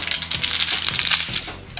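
Dry spaghetti is snapped by hand into short lengths for a coffee thermos, giving a rapid run of close, crisp crackles and brittle cracks.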